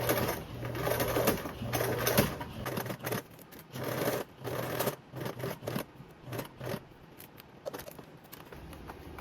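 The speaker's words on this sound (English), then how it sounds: "pull a little bit out of this area and make it easier to sew with that 1/4 for me" A sewing machine stitches a zipper onto stiff clear mesh, running in steady whirring bursts that break into shorter stop-start runs as the fabric is guided around curves.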